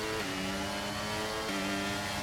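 F2 race cars at Imola in a racing game pulling away from the start, a dense droning engine roar with steady rising pitch as they accelerate together, no voices.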